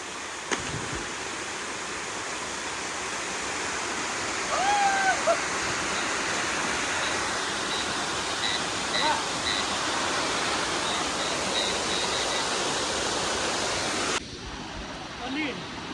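Waterfall at Junani and Tengraghati in the Bargarh area pours in a steady, broad rush of flowing water close by. The roar holds even and loud throughout, then drops abruptly near the end.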